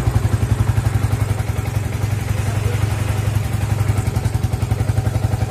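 A Yamaha Vixion motorcycle engine idles steadily at about 1300 rpm as it warms up, a close, even mechanical pulsing with light clatter, while someone talks over it.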